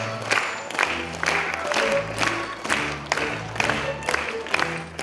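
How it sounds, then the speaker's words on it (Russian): An audience claps and cheers after a comic theatre performance at a fable-and-legend themed festival in Brest. Dense, sustained applause with rhythmic clap bursts fills the scene at close range, without a break. "овации публики не заставляют себя долго ждать"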